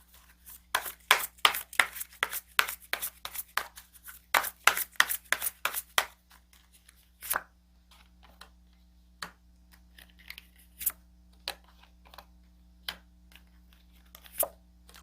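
Tarot cards shuffled and drawn, a quick run of crisp riffling slaps and taps that thins out into scattered soft flicks and card placements, close and alone.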